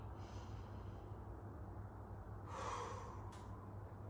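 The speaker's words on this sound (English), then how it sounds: "One more. Breathe in." A single deep inhale during a guided breathing exercise: a soft, airy draw of breath that swells briefly near the middle and stands alone over a low steady background hum.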